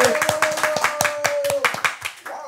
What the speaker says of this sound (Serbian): idemo aplauz, ajmo si aplauz!